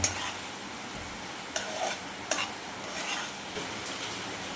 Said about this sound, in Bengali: সুজিটাকে দিয়ে ভালো করে আমরা মেরে নেব